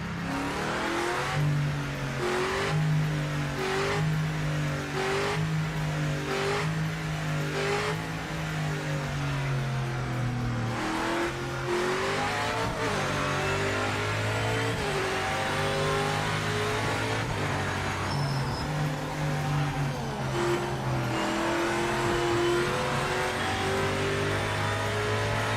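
Race car engines in a racing sim drone and rev continuously, pitch climbing and dropping through repeated gear shifts, loud and steady with no talking.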